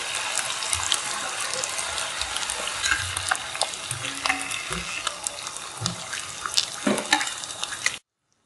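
Snacks deep-frying in hot oil give a steady, dense bubbling hiss with crackling pops that stays loud and even throughout, then cuts off abruptly at the end.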